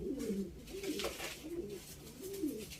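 Soft, repeated cooing of pigeons or doves, several low rolling coos in a row, fairly close, with faint background noise.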